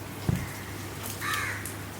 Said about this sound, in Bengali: বৃষ্টির মধ্যে কাক ডাকতেছে কোন দিকে